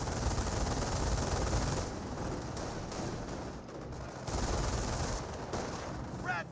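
Squads trade dense gunfire in Company of Heroes, a continuous wash of overlapping rifle and machine-gun shots with distant battlefield rumble, steady and moderately loud throughout.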